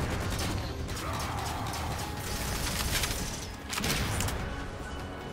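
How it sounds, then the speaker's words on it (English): Green plasma ball gunfire in the Halo 4 video game, a dense continuous barrage of crackling shots and impacts that stays loud throughout, with a brief dip before a renewed burst. "Somebody's shooting green plasma balls."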